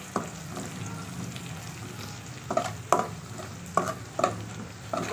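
Potatoes with green chillies stir-frying in a pan for a dhaba-style aloo bhuna masala, giving a steady low sizzle broken by several distinct scraping strokes of the spoon in an uneven rhythm.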